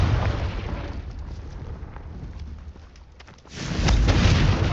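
Confringo blasting spell in the Hogwarts Legacy game, a rumbling explosive burst that fades then erupts again into a loud boom near the end, with no talk.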